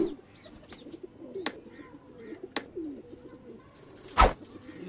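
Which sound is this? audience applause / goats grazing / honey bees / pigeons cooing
pigeons cooing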